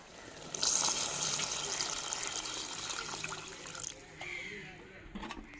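Dissolved tamarind water is poured into a simmering stingray dried-fish curry, a steady liquid trickle that begins abruptly and then tapers off, close and moderately loud, with faint outdoor background sounds and crows cawing.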